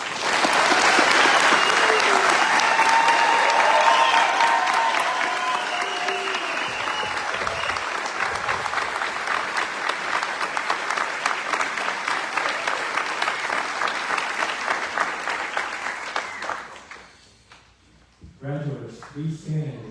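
A large audience applauds graduating agents at a U.S. Border Patrol Academy ceremony for class 1274, with sustained loud clapping that gradually thins out and fades, followed by a brief announcer voice near the end.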